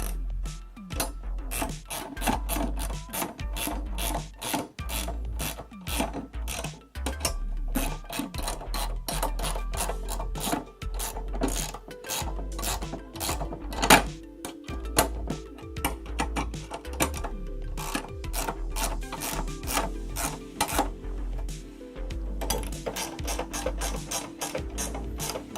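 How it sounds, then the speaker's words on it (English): A 13mm ratchet wrench tightening bolts on a Mimosa A6 mount, rapid continuous clicking of the pawl in bursts with brief pauses, close and steady. "You'll take your 13mm and tighten these down."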